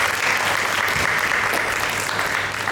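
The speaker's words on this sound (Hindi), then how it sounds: "जोरदार तालियों से वेलकम करेंगे हम शेफ किरण यूसुफ का।" A large audience applauds warmly to welcome chef Kiran Yusuf at a baking challenge event, steady dense clapping that holds at full strength throughout, close and without speech over it.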